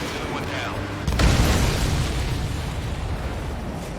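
A supply ship explodes in the combat flight game Ace Combat 7, a sudden deep boom about a second in that rolls into a long rumbling roar over steady engine-like background.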